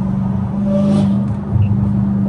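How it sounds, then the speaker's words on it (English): A car's engine drones and rises in a brief rev as it downshifts on an LA freeway, a steady close interior hum without talk. "Okay, that was unnecessary downshift"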